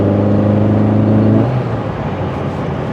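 Citroën AX 1300 Sport engine with twin carburettors revving hard, a loud steady harmonic drone that drops away after about a second and a half into rougher engine rumble.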